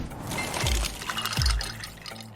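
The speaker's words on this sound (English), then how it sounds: "Those are the sounds of a brand new ice maker dropping cubes into a fresh glass of water" Cubes from a brand-new ice maker drop into a fresh glass of water, two heavy plunking splashes a second apart with sloshing and trickling liquid between and after them, close and clear.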